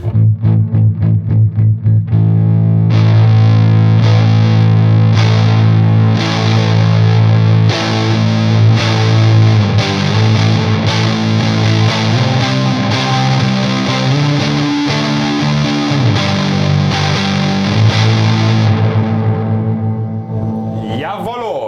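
Heavy, distorted electric guitar with a boost engaged rings out in long, sludgy, doomy sustained chords, loud and thick, after a few short plucked notes at the start.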